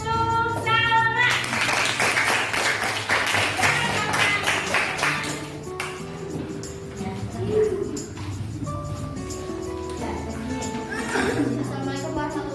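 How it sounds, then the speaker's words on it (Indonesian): Classroom clapping for a student about to present her group's discussion, a burst of hand claps early on followed by scattered sounds and voices in the room. "Tepuk tangan untuk Salma."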